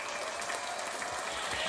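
An audience applauds a show's hosts, a dense, steady wash of many hands clapping that holds at an even level for the whole stretch with no pauses.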